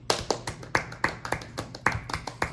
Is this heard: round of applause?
yes